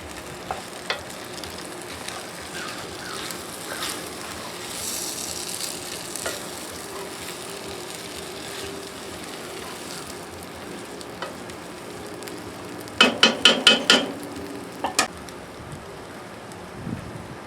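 Rice with other ingredients is stir-fried in a pan as Rotel tomatoes go in, giving a steady, fairly quiet sizzle and scraping throughout, with a short cluster of louder clattering stirs near the end.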